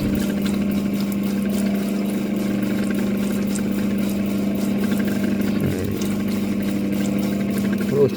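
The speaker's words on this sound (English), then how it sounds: "I'm going to go on a soft stone wheel for this." An opal is ground on a soft stone wheel, giving a steady, close motorized hum with a constant low drone and light wet, gritty hiss running unbroken throughout.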